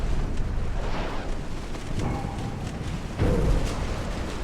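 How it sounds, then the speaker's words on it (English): Heavy rumbling explosion from a torpedo striking a warship in the naval strategy game Ultimate Admiral Dreadnoughts, set in 1900; a sustained broadband roar swells into a louder burst near the end, with no talking. "And another torpedo hit while we are at it."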